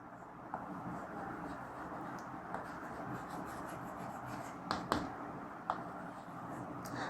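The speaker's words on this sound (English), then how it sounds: "Now I write the statement." Chalk or marker writing a maths statement on a board during a lesson, a soft continuous scratching texture with a few sharper taps, close and steady, with no talking over it.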